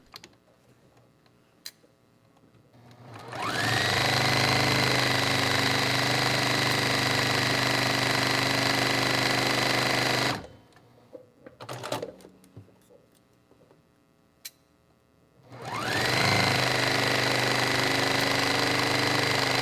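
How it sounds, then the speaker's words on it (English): A sewing machine stitches quarter-inch seams along both sides of a quilt block. It runs in two long, steady, loud bursts with a pause in between, and no one speaks. "we're going to sew 1/4 inch on both sides."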